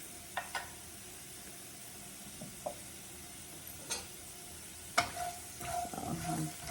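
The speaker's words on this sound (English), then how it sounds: "I'll toss it a little bit more. And then I'm just gonna let them get crispy and cook" Scrambled eggs for tacos sizzle quietly in a pan while being tossed, with scattered spatula taps and scrapes rising over the soft hiss of frying.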